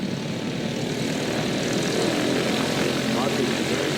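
An old propeller airplane from a flying circus air show passes overhead with a loud, steady broadband engine and propeller roar that fills the whole clip, swelling slightly partway through.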